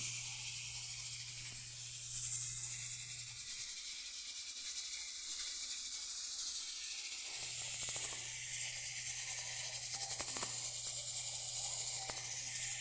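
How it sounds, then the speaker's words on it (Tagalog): A steady bubbling hiss of a coconut mixture with fruit cocktail, condensed milk and cream boiling in a pot, constant and close, with faint clinks and a low hum in the background. "Ayan, kumukulo na siya."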